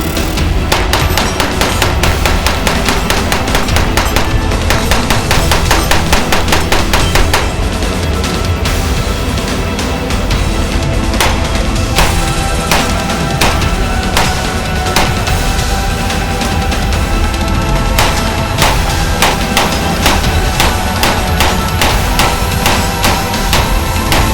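Rapid fire from a Grand Power Stribog SP9A3G 9mm pistol: a long, dense string of sharp, loud shots in close succession, sustained for over twenty seconds with no talking.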